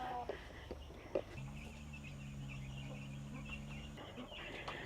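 Small bantam hens cluck in a farm pen, a steady, moderately close murmur of clucking with a sustained low hum running through the middle, no talk.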